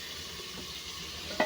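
Potatoes fry in a pan with a soft, steady sizzle and hiss, followed by a brief clink near the end, with no voices.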